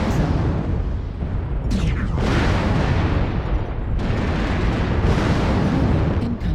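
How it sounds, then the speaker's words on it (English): Missile impacts shake a video game battlefield, with loud sustained rumbling and several heavy booming blasts that roll on without pause. "Warning, incoming missile."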